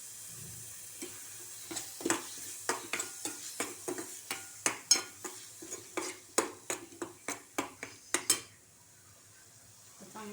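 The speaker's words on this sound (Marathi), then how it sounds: "मसाला तर आपला फ्राय होत आलाय चांगला अजून थोडा परतायचा चांगला फ्राय होईल" Masala fries in a pan while a spoon stirs it in a quick, regular series of sharp scrapes and clinks, about twenty strokes over a low sizzle, ending abruptly with one last tap.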